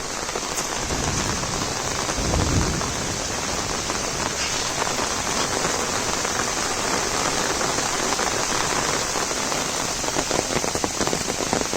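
Heavy monsoon downpour in Konkan drums steadily and loudly on surfaces, a dense unbroken roar of rain alongside a swollen river rushing past, with no voices throughout.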